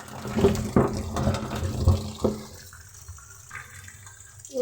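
Tap water runs into a basin while dusty, freshly dug taro roots are rinsed, with splashing and a few hard knocks early on, then the flow settles into a softer, steady trickle.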